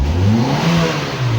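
A 1992 Nissan Sentra with the ECCS fuel-injected engine revs up steadily from idle, a loud close mid-pitched engine roar rising and holding without talk.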